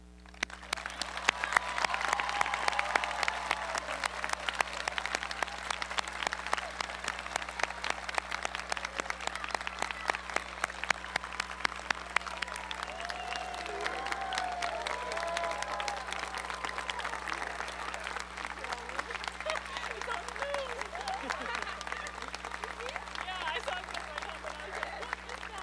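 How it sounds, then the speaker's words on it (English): Sustained audience applause for graduates at the close of a 2018 high school graduation ceremony, steady and dense throughout, with some voices and cheers mixed in. "let's conclude this ceremony with a round of applause for all of our graduates"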